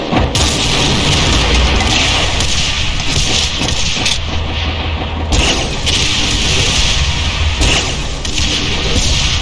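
Homing rockets from a Cybruiser in a Doom mod explode in a dense, continuous barrage of booming blasts and roaring rumble, loud and close, with no pauses between impacts.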